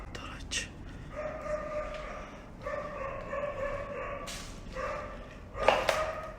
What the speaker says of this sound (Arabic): في كلب هنا.